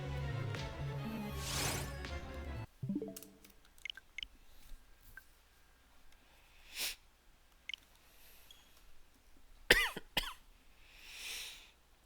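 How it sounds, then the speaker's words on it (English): One person coughs repeatedly indoors, a run of close, rough coughs early on and then scattered single coughs, sniffs and throat sounds with quiet gaps between them. "I just keep on coughing."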